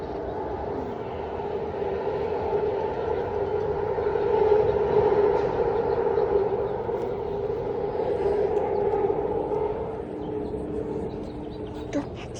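A high-speed eight-car commuter train runs past at up to 79 mph, giving a steady roaring rumble with a sustained tonal hum that swells mid-pass and fades slightly toward the end, with no talk over it.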